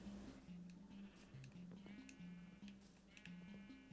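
Several sheep bleat in short, repeated calls in a Minecraft-style video game, fairly faint and close together, with a soft electronic buzz in the background.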